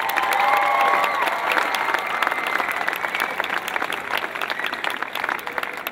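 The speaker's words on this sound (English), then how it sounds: "So give yourselves a round of applause." A crowd of students applauds at a school choice event, loud continuous clapping with a faint murmur of voices and some cheering underneath, steady throughout.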